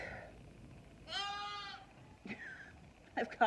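On a farm during lambing season, a sheep or lamb lets out one clear, close bleat, followed by a shorter fainter bleat and some rustling, with no talking.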